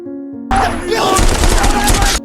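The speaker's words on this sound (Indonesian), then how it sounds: "dengan sebuah pemandangan baku tembak di kejauhan" A film's battle scene with an exchange of gunfire in the distance: a brief sustained musical tone gives way to a loud, dense rattle of rapid overlapping shots that runs until the end.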